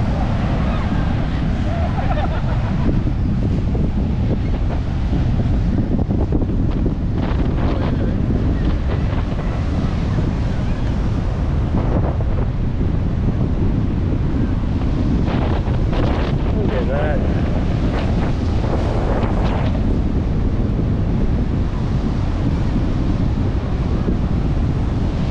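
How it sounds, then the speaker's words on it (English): Ocean waves and surf roll in on the Gold Coast of Queensland as a tropical typhoon passes down the coast, with strong wind buffeting the microphone throughout. The roar is constant and loud. "Waves at the back."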